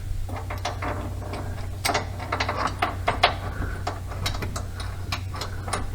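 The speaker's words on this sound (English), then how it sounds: "we will now put our new bolt in" A new subframe bolt is fitted on a Mk6 Golf during a subframe collar kit install. A close metallic ratcheting clicks in short irregular bursts over a low steady hum, and no one talks.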